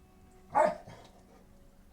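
A dog gives a single short bark, fairly faint, in an otherwise quiet indoor room.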